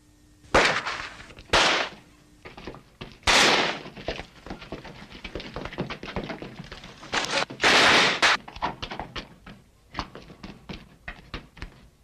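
Sniper gunfire in a 1945 Battle of Manila war film: several loud sharp shots ring out at irregular intervals, mixed with scattered cracks and smaller pops throughout.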